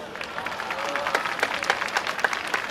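Audience clapping at a yosakoi dance festival, a steady moderate patter of many hands with a few louder individual claps standing out, under a faint voice.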